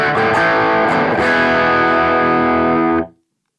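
An electric guitar played through a Marshall amp model on a BOSS GT1000 rings out as a sustained, distorted chord for about three seconds, loud and close, then is cut off abruptly into silence.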